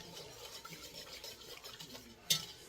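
Flour being whisked into gravy in a pan makes a soft, faint, steady scraping swirl, with one sharper clink near the end.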